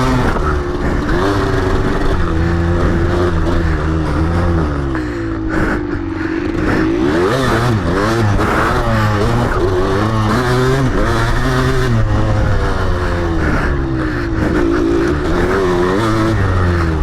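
A 1994 Kawasaki KDX 200 two-stroke motocross bike rides a track, its engine loud and close throughout, revving up and down through the power band in continuous rising and falling sweeps.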